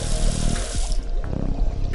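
A faucet runs into a sink in an Adventure Time video game, a continuous loud gush of water with small splashes and drips throughout.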